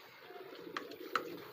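A male high-flyer pigeon gives soft cooing calls over a low background hum, two brief faint notes, close by.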